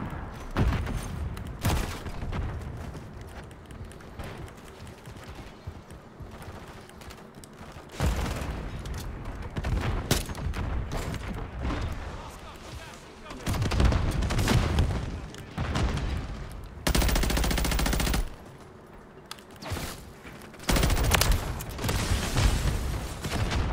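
Gunfire and explosions in Call of Duty arrive in irregular loud bursts of shots and booms, separated by quieter gaps, with heavy low thuds among the volleys.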